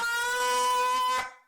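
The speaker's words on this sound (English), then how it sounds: "Then I added some heavy distortion" A reversed, formant-shifted recording pushed through heavy distortion gives a dense, buzzing sustained tone full of upper harmonics and low grit. It holds steady for over a second, then breaks off and fades quickly.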